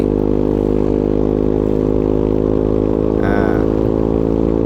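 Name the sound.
motorcycle racing exhaust revving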